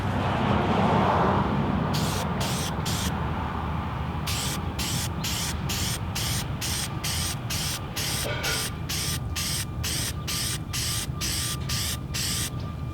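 K&N red air filter oil sprayed onto a cone intake filter for a VW GTI MK7, heard as a run of short, steady hissing aerosol bursts in quick rhythm over a constant low hum.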